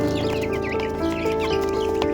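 Young chicks in a coop made from a cardboard box give a brief stretch of close, overlapping peeping and soft clucking that carries on without a break.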